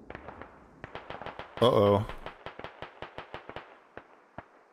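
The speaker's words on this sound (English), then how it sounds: "Rockets coming in." Incoming rocket fire in the video game Squad lands as a rapid string of sharp cracking impacts, with one longer roaring burst partway through, and a short spoken exclamation in between.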